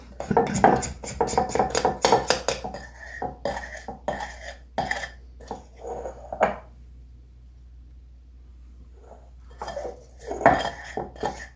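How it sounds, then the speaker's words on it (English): A spatula or spoon scrapes cake batter out of a mixing bowl in quick, clattering strokes, busy at first, then pausing before a few more scrapes; close and fairly clear. "Trying to get all this yummy stuff out of this bowl so we don't waste."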